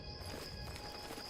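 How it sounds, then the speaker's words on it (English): Horse in the Oblivion video game, a short burst of hoof clip-clops with a faint whinny, heard quietly over steady game ambience with a high tonal hum. "Random horse."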